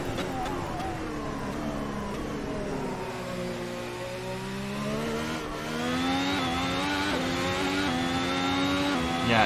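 Ferrari engine in a racing video game revs and accelerates steadily, a loud continuous whine with rising and falling pitch as gears shift, with some speech over it.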